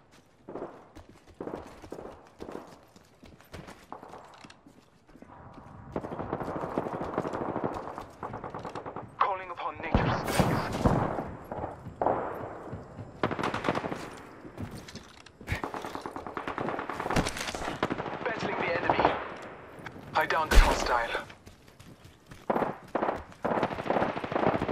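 Rapid automatic gunfire in Apex Legends comes in repeated close bursts with scattered single shots, loud and dense across the stretch, with voices briefly over it.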